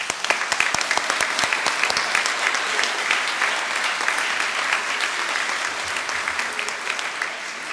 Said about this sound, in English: Let's give these students first a very big round of applause.